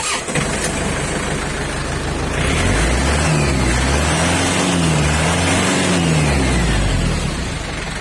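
A used EF 453 TLX farm tractor's diesel engine runs close by, a loud, steady rumbling idle that rises slightly in pitch partway through and holds as a continuous drone.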